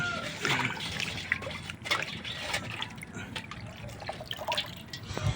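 Water sloshes and drips in an aluminium basin as a jackfruit is moved around and rinsed, with irregular splashes and trickles close by.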